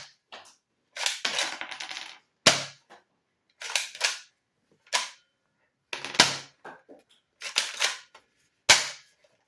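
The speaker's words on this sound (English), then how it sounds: "To prime the blaster, you pull the charging handle back and fire." A manual-prime foam dart blaster rifle is repeatedly primed and fired, giving a sequence of sharp, close plastic clacks and snaps in pairs and single bursts, with short silences between.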